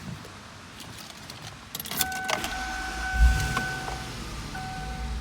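A yellow 2002 Ford Thunderbird with hardtop and low mileage starts up: soft interior clicks and warning chimes, a brief cranking thump, then the engine settles into a low steady idle, with no talk.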